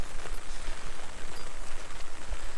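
Steady rain falling in the town of Izumozaki, a dense and even hiss of drops with no pauses, close and fairly loud throughout, with no voices.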